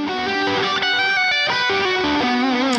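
A distorted electric guitar plays a sustained arpeggio built around a minor third, with notes ringing over one another and a slight pause midway, loud and alone.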